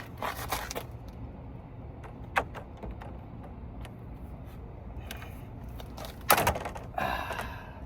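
A lopper snapping apart the plastic active kidney grille shutter pieces on a BMW, a few sharp cracks and clacks scattered over a quiet background, with a burst of louder snapping near the end, close by.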